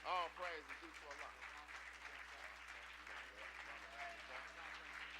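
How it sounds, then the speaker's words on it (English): Audience applause welcoming a minister to the stage at a religious gathering: steady clapping from a crowd sustained for several seconds, with some voices mixed in. "let's receive Brother Minister Nuri Muhammad with a warm round of applause"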